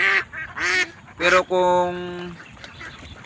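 Penned laying ducks give three loud, close honking quacks, the last one drawn out, with a brief word of speech at the start.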